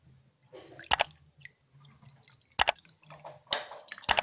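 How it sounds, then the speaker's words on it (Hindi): Water pouring into a glass onto a sensor in a water pump controller setup, heard as a few separate splashing pours and drips, with quiet gaps and a faint low hum between them. "इस ग्लास में मैं पानी डालूंगा"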